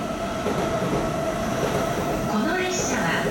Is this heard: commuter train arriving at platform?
yes